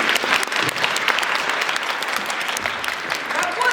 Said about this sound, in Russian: Я не понимаю, где аплодисменты?